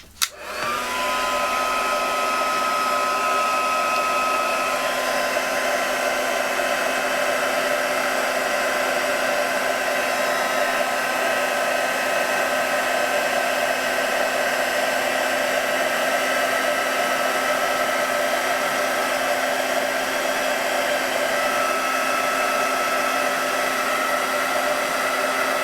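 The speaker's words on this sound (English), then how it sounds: "So let's heat emboss those, see what gives" A heat gun runs steadily for heat embossing a journal page, a loud continuous blowing whir with a faint high whine, starting abruptly and holding even throughout with no talk.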